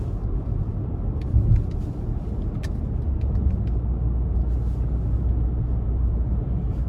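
A 2017 Lexus RX 350 accelerates gently out of a corner, a steady low engine and road rumble heard from inside the cabin, a brief swell early on and light clicks and ticks over a constant drone, no talking.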